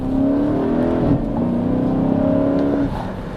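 A deep V8 exhaust note from a Dodge Charger SRT8 with an axle-back performance exhaust, rising and holding as the car accelerates, a brief dip midway before the engine drones on steadily, heard from inside.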